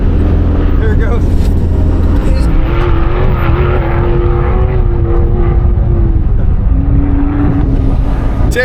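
A car at a St. Anthony's Memorial Weekend gathering revs hard as it pulls a wheelie, a loud, close, sustained engine roar rising and holding in pitch, with people talking in the background.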